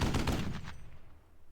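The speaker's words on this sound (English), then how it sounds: "let's fire with the machine gun on this." Machine gun fire in the wargame Squad Battles Advance of the Reich, a short burst of rapid, loud shots that fades out over about a second, with no voices over it.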